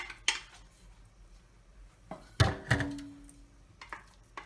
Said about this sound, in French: dans ma marmite je vais mettre mes tomates